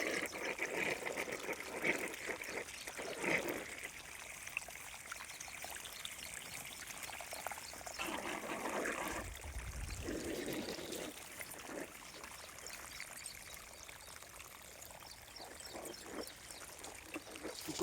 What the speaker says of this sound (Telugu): అందుకని నీళ్ళు తక్కువ వస్తున్నాయి